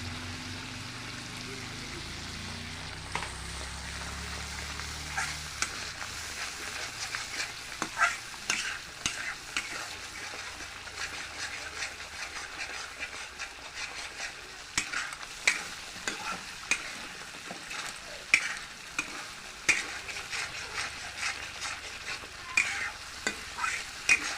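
A spice masala with ground cumin is stirred and sautéed in a pan for mocha curry, a continuous soft sizzle broken by frequent scraping strokes of a spoon, close by and with no voices.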